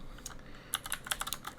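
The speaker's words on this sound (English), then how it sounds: "my keyboard's probably going to be a little loud" Someone types on a computer keyboard with loud, close clicks in an irregular burst, sparse at first and then quicker, with no talking.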